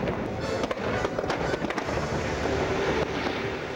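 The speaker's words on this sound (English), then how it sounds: "there's a fireworks spectacular over the lagoon called Illuminations" Fireworks burst continuously over a lagoon at a Disney resort, a dense, loud rumble of overlapping booms and crackles with no clear gaps between blasts.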